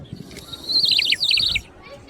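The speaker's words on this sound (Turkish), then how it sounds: "Şelale su düdüğü. Su düdüğünü bilir misiniz? Kuş sesi çıkarıyordu" A warbling, trilling whistle like a bird call, made with a water whistle, rises and flutters for about a second, fairly close and clear.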